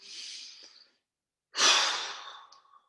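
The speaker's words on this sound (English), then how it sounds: "deep breath in" Two close, airy breaths during a qigong class: a softer exhale that fades out, a brief silence, then a loud, deep breath in that swells and slowly tapers. No voices.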